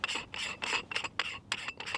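Rhythmic metallic rasping and scraping as a screw-on metal lens hood is twisted back onto a lens thread, in about seven short close strokes with no talking.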